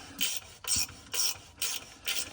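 A wrench turns a seized nut on a catalytic converter flange of a 2011–2020 Grand Caravan or Town & Country minivan, giving five rhythmic, close rasping grinds in even strokes, with no one talking.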